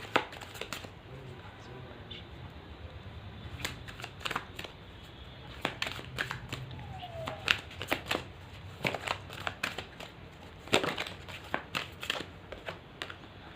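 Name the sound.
tarot cards being shuffled and drawn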